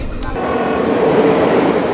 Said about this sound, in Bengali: অনেকটা লেট করে ঢুকেছে ট্রেন, অনেকটা।